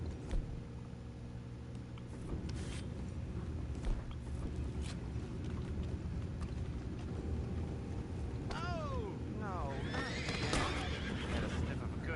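Horses in the video game Red Dead Redemption 2 neighing and whinnying, two rising whinnies near the end over steady wind and faint hoof clops, moderately near.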